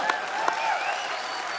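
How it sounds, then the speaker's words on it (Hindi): A studio audience claps on a comedy talk show, a short burst of steady applause with a couple of sharper claps near the start and a faint tonal layer underneath. "वेरी डिप्लोमेटिक आंसर, जोरदार तालियां।"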